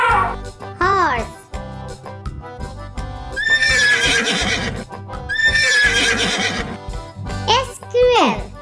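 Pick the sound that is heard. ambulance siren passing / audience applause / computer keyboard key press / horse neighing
horse neighing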